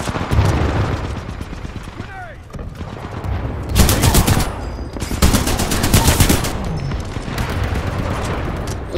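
Dense automatic gunfire in Titanfall 2 rattles in heavy sustained bursts, with sharper volleys surging and fading over a constant battle din, while a voice speaks intermittently.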